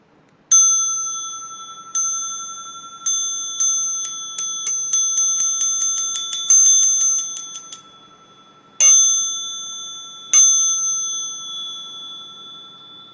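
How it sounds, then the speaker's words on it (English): A bell in a Zen practice session struck repeatedly, first in spaced single rings, then a fast run of ringing strokes, then two more sustained strikes, clear and resonant with long decaying tones and no talk. "So let me put down the moktak and grab my bell."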